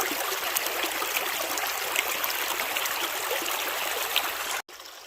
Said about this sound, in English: So the sluice is definitely running better